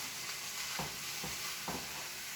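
Canned peas and carrots stirred into browned hamburger meat in a pan for shepherd's pie, with three soft scraping strokes over a steady background hiss, no talking.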